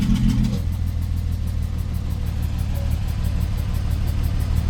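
Porsche 991.1 3.8-litre flat-six idling with one cylinder misfiring, a steady low rumble with an uneven, lumpy pulse, heard close and alone throughout.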